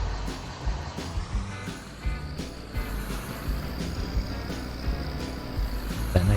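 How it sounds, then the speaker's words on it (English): A diesel truck engine idles steadily in a modded video game, a low continuous rumble with a faint high whine on top and no talking. "Got a nice diesel sound to it."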